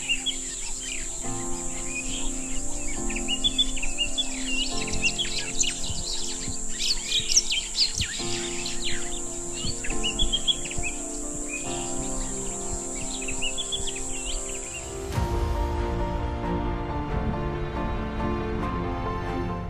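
A dawn chorus of many birds chirping and calling at a riverside campsite beside the Boteti River in Kumaga, Botswana, in the wet season, with insects droning steadily underneath; the dense overlapping song carries on throughout at moderate level.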